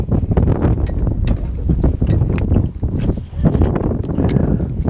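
Strong wind buffets the microphone near a boat dock on a chilly spring day at a lake, a continuous loud roar with gusty surges and brief dips.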